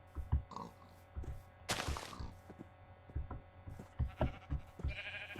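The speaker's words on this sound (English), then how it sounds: "now I can kill a couple of sheep and get my bed made finally" Sheep bleat in Minecraft amid soft game ambience, a few short, quiet calls spaced apart with light thuds and a brief noisy burst in the middle, no talking.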